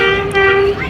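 The Awam Express sounds its whistle while pulling into Attock City Junction: one loud, sustained tonal blast, close and steady for about a second.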